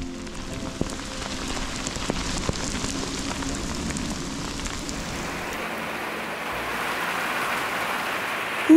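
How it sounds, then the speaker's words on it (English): Hard rain pours down steadily during a bikepacking trip across Sweden, a dense, loud hiss that thickens and grows heavier partway through and continues without a break. "It started raining like crazy."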